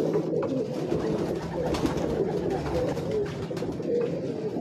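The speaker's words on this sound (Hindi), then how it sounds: "ये कबूतर आप देखें" Soft, low cooing of Teddy pigeons rises and falls continuously amid a dense murmur of many birds nearby, with faint rustling throughout.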